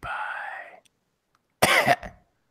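A couple of harsh, close coughs with a short pause between them.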